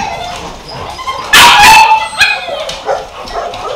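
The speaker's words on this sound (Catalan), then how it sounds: "És un gos superllest." A dog barks and yips in short, excited bursts, with a few whimpering, howl-like notes mixed in, loud and close in a small indoor space.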